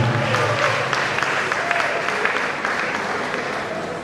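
Crowd of legal professionals at a bar association law week gathering claps steadily and fairly loudly for a few seconds, with a voice faintly present beneath.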